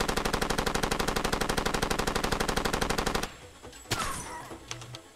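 A mounted machine gun in Far Cry 2 fires a fast, perfectly even stream of heavy close shots for about three seconds, then stops, leaving a single sharp report and faint background noise.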